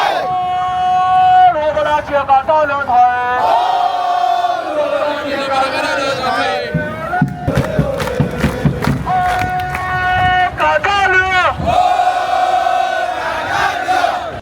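Football fans fill the stands at PAT Stadium, home of Port FC in Thailand, cheering and chanting loudly; crowd roar and rhythmic chants run continuously throughout, with horns or melodic chant lines over the dense babble.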